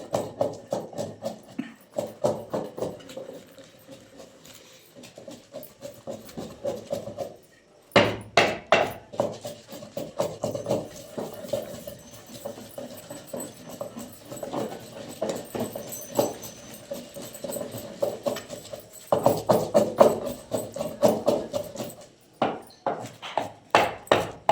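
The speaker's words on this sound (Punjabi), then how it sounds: "ਅਸੀਂ ਹੁਣ ਨਾ ਅਦਰਕ ਤੇ ਲਸਣ ਇਹ ਪਹਿਲਾਂ ਰਗੜ ਲਈਏ, ਇਹਨੂੰ ਬਰੀਕ ਕਰ ਲਈਏ" Ginger and garlic are pounded in a mortar with a pestle, a long run of rapid, close, hard knocking strikes with a brief pause midway and another near the end, loud and rhythmic.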